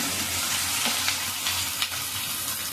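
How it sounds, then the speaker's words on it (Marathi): Onion and garlic frying in a pan for vangyache bharit, an eggplant dish: a dense, continuous sizzle up close with a few soft spoon taps, and no speech. "त्याच्यानंतर टाकला लसूण लाल झाल्याचा कांदा टाकला."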